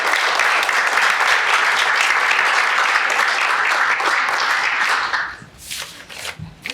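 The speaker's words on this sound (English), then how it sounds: "Let's give them a round of applause if we can." Sustained audience applause fills a swearing-in ceremony for a safety director and police chief, loud and steady for about five seconds before fading into scattered claps and a voice.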